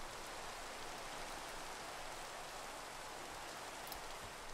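Steady rainfall from the video game Minecraft makes a soft, continuous hiss of dense falling drops, even and unbroken throughout with no talking.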